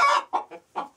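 Heavy laying hens clucking close by, a longer call followed by three short, separate clucks within a second, with no talking.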